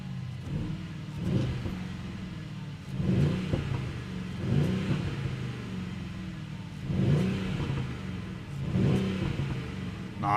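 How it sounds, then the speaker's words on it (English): A Mercedes-AMG V8 engine revs repeatedly with a deep rumble and pops, swelling and easing in regular cycles, heard from nearby with no voices. "Beautiful AMG engine V8 rumble."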